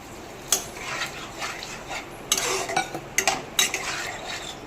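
Mushrooms mixed with spices and a little water in a cooking pan, with scattered metallic scrapes and sharp clinks of a spoon against the pan and a soft background hiss, no talking.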